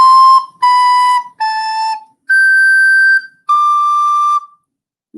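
A hand-played whistle tootles the third measure of a well-known theme as five clear, sustained pure notes, each held about a second with short gaps, close and loud with no voices.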